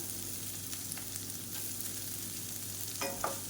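Finely chopped large onions frying in a pan with green chillies, a soft continuous sizzle with occasional stirring scrapes, faint and close, no talking.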